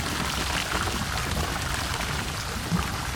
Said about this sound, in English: Wow, the sound of this water and the rain.